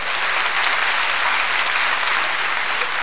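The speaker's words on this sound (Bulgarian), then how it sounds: "Аплодисменти за колегата Овидиев!" Studio audience delivers continuous, even applause for colleague Ovidiev, a dense wash of clapping with no voices, holding steady throughout.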